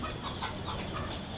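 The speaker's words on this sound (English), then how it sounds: "Chickens fighting." Chickens fighting, clucking and squawking in quick, agitated bursts, fairly close, over a steady background hiss in rural China.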